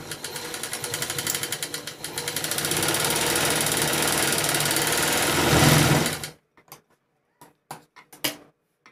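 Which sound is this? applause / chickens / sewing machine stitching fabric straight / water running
sewing machine stitching fabric straight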